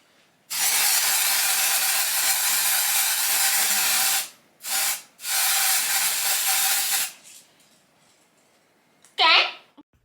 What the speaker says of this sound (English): And then I spray the cap to get the desired look that I want.